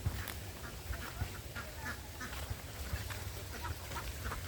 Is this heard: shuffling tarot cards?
no